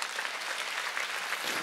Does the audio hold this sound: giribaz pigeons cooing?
no